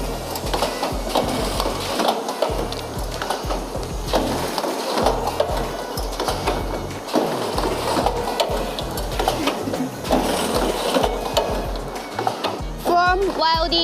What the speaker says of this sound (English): And this one is richpeace semi-automatic headband welding machine